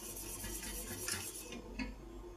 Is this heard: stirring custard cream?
yes